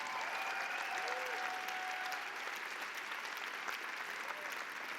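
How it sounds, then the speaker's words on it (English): Sustained audience applause for the judges fills a theatre at a live poetry slam final at the Roundhouse, a steady, even wash of many hands clapping with no single claps standing out. "Can we give our judges a round of applause, ladies and gents?"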